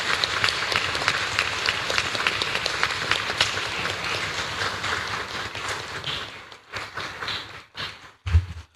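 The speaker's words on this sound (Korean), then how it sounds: "우리 박수 한번 칠까요?" A church congregation claps steadily for several seconds, then the applause thins out and fades into scattered claps and quiet.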